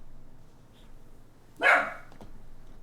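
A single loud, sharp dog bark sounds close by, rising out of an otherwise quiet room and fading quickly.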